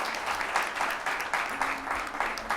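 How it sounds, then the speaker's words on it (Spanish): Warm audience applause at a talk on lighting design, steady close clapping from a seated crowd with a faint murmur beneath, holding level throughout. "Así que, por favor, un aplauso."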